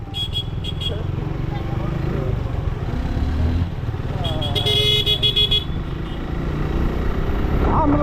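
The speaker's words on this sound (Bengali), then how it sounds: "এ হলো কাশিমপুরের জ্যাম" Jammed traffic in Kashimpur, with idling motorcycles and cars rumbling close by and several horn toots sounding over the din, while someone talks throughout.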